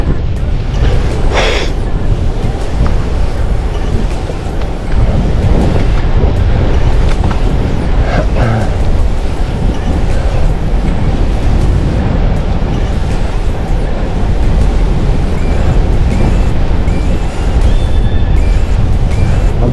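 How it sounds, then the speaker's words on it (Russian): Strong headwind roars across the microphone of a cyclist riding among flat open fields, a loud, continuous buffeting rush with gusts and no break throughout. "Ветер встречный, не получится разогнаться"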